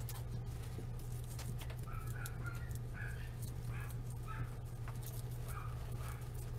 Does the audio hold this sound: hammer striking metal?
no